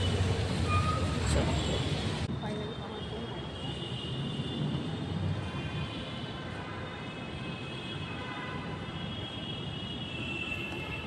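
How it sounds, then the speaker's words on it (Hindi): A Delhi metro train on the Noida-to-Delhi line comes into a station with a continuous, moderately loud rumble and a steady mechanical whine that ease slightly as it goes on. "पहले मेट्रो पहुँच गई है।"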